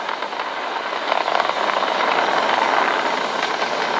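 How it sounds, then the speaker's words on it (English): A SpaceX Falcon 9 rocket carrying a crewed Dragon capsule roars during its 2020 NASA launch as its engines throttle toward maximum dynamic pressure. The rumble is continuous, loud and steady, with no talk. "Flying crew on board Dragon and Falcon 9 and throttling down to get ready for the period of maximum dynamic pressure"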